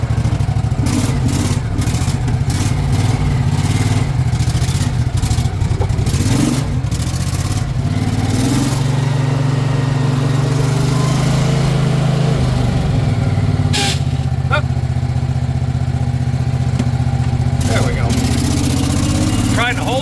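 A 1977 Cushman Truckster engine pulls away in first gear with a column shift, its mid-pitched motor droning loud and close with rising and falling revs, while someone talks over it.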